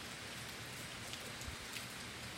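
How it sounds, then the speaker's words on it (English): Heavy rain from Hurricane Michael pours down in a dense, unbroken hiss, with a few sharper drops landing on nearby surfaces in the early morning. "The rain is coming down hard, and the wind is blowing pretty strongly."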